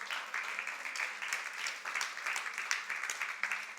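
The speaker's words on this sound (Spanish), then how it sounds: "Dale un aplauso" A congregation applauds during an evangelical Spanish-language worship service, a faint, steady patter of many hands clapping at a distance with no voices over it.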